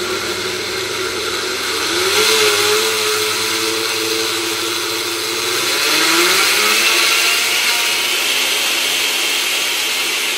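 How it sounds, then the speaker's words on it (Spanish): A loud blender motor runs continuously, its whine rising and dipping in pitch twice as it grinds peanuts into a thick, creamy mixture. "para no quemar la licuadora, para no hacerle daño"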